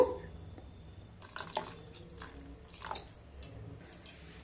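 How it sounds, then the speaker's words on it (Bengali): Grated coconut and rice batter for chitoi pitha is mixed by hand with a splash of water, making soft, wet squishing and dripping sounds, close and fairly quiet, with a few irregular bursts. "খুব ভালোভাবে মিশিয়ে নেব অল্প জল দিয়ে দেব"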